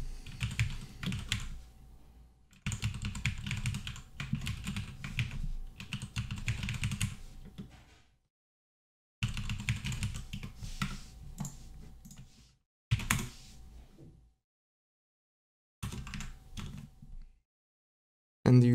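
Code is typed on a computer keyboard in quick, close bursts of clicking keystrokes, broken by several short silent pauses over about nineteen seconds, with no talking.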